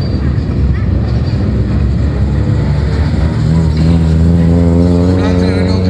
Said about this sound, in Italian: Renault Clio Williams per la E7